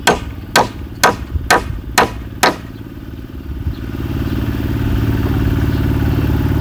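A hammer strikes nails into timber at a house under construction, six sharp, evenly spaced blows, loud and close, followed by a steady low engine rumble that grows louder.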